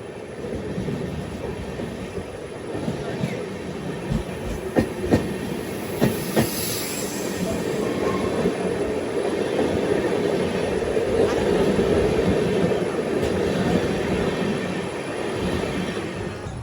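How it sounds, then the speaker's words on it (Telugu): An SMVT Bengaluru–Howrah express train passes on an Indian railway line, giving a long, steady rumble of rolling wagons. Scattered clicks and clacks from the wheels sound over the rails throughout, with no speech. "కోరమండల్ వెళ్ళిపోయింది."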